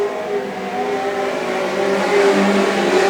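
Legend cars race around an oval track, their engines a steady, loud, layered drone of several cars revving together at close range, with no talk over it.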